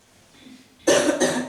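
A person coughs twice in quick succession, a loud, close, harsh double bark that follows a quiet breathy lead-in.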